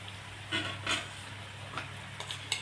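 A spoon stirs green chilli thecha in oil in a pan for Khandeshi brinjal bharit, giving a few soft scrapes and light taps against a low steady hum.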